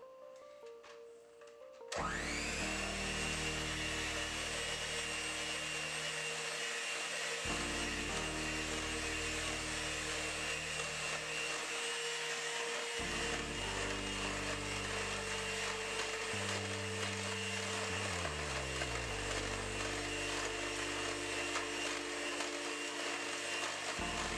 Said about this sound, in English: we're going to go ahead and get this mixed on medium speed until it's well combined